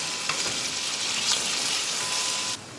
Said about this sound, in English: Take 3 sliced onions. Cook until they change their color.